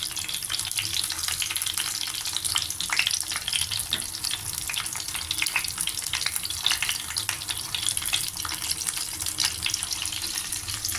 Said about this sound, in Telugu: స్టఫ్ అంతా బయటకు రాకుండా నెమ్మదిగా వేయించుకోవాలి లో ఫ్లేమ్లోనే వేయించుకోవాలి